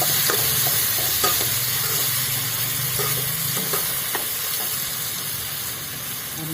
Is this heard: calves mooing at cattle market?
no